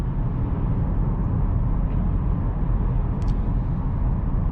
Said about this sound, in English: There's still a bit of tire noise in this car, but overall it's pretty quiet.